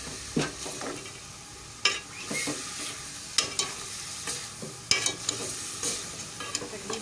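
Minced meat fries with garlic-ginger paste in a karahi for qeema karahi, a steady sizzle broken by repeated scrapes and clanks of a spoon stirring against the pan, close and without talk.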